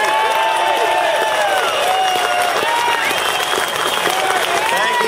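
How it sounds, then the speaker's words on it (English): Enthusiastic crowd applause and cheering for Congressman Frank Pallone at an outdoor rally, a steady dense wash of clapping that stays loud and unbroken throughout. "I want very enthusiastic round of applause for Frank Pallone"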